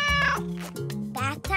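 A cartoon cat meows loudly several times in quick succession, close and drawn-out, with a voice also heard.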